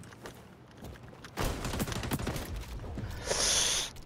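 Shotgun fire in the XDefiant shooter game, a few loud blasts and a burst of close gunfire after a quiet start, ending in a bright ringing tone.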